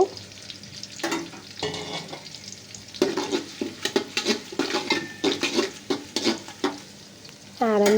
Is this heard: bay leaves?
yes